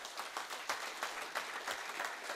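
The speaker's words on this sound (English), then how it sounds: "Clap for yourself, please." A conference audience of practising company secretaries applauds steadily at a national conference, a dense, fairly distant wash of clapping with a few louder bursts, no talking over it.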